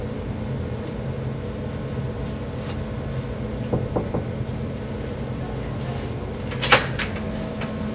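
A hotel suite door at Marina Bay Sands in Singapore is opened: a few soft latch clicks and then a sharp clack rise over a steady low room hum.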